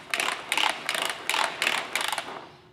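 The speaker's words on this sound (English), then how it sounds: "So we'll start by pulling out the air hose." An air hose is pulled from a ratcheting hose reel in a workshop, producing six quick bursts of rapid clicking as the pawl skips over the teeth, close and crisp, with pauses between pulls and no talking.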